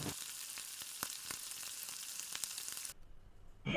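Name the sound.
spice paste frying in oil for shahi egg curry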